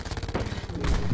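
Rapid gunfire in a video game, a dense burst of repeated shots in quick rhythm, loud and close, growing heavier toward the end.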